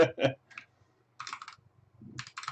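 Computer keyboard typing in short, irregular bursts of clicks separated by brief pauses, close up and moderately loud, with no speech.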